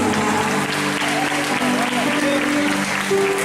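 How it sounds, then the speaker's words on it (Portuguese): A crowd applauds steadily at an evening church worship service, dense clapping that fills the whole stretch, with a voice and some musical tones faintly underneath. "Você pode aplaudir o Senhor Jesus nessa noite"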